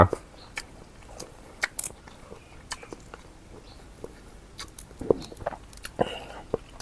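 Crunchy cha-om (acacia leaves) chewed close up with khanom jeen rice noodles in fermented fish sauce with fresh shrimp, giving soft irregular bites and crunches over a quiet background, without speech.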